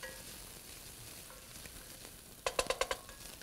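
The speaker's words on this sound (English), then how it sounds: "Just want to get this bacon sort of cooking a little bit, extracting some of the flavor out." Bacon frying in a little oil in a pot, a soft steady sizzle heard close up, with a brief burst of sharper crackles and pops near the end.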